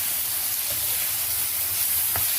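Taro leaves (kochu shak) frying in a pan, a steady soft sizzle and hiss with a faint clink near the end, no voices.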